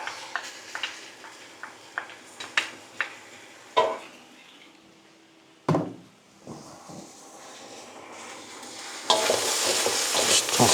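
Pork stir-fry with spring onions and garlic sizzling in a pan, with a run of sharp knocks and scrapes from stirring early on, then a louder, steady hiss of frying toward the end.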